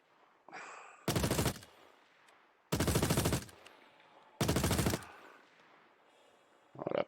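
Behring FS9 light machine gun in Star Citizen fires three loud, sharp bursts of rapid shots, each about half a second long, evenly spaced, with quiet gaps between and no voices.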